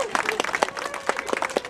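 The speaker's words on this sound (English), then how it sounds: "Please let's give them a round of applause." Applause from a crowd at a TTC Riders transit rally, with mixed voices and cheering woven through the short burst of clapping.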